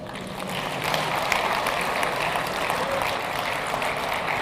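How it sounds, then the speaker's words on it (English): Audience applause during a Tinubu speech: steady, dense clapping from a crowd, sustained at even loudness for the whole stretch with no pauses. "I'm not sure why they were clapping there"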